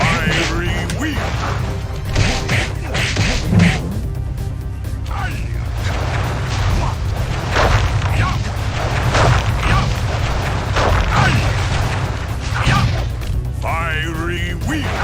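Booming impacts, bursts and crashes from Sly Cooper's cane attack moves in the video game, dense and continuous under a steady low rumble of game sound, with bursts of in-game voices calling out attacks.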